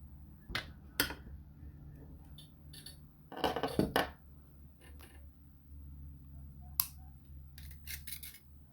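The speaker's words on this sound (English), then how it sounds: "and cut off that extra wire" Wire cutters snipping off excess wire while making earrings: several crisp, close snips and clicks spread unevenly over a low background hum, including a brief burst of rustling handling noise, with no talk.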